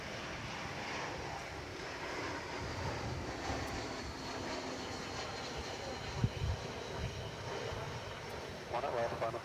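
A plane arriving at DFW Airport on a flight from Cancun, heard as a steady, distant broadband jet roar that holds throughout, with a soft thump midway and light background voices.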